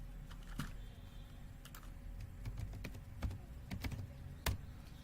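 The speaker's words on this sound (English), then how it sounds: "So now type apt minus get and hit enter." Computer keyboard being typed on to enter a Kali Linux command, a quiet run of scattered key clicks ending with one sharper press, close and without speech.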